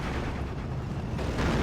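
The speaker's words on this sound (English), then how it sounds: "Here come the bombs" Ju-87 bombs explode in Steel Division 2, a WWII strategic bombing run in Poland, 1944: a continuous, heavy rumble of blasts, loud and sustained with no pauses.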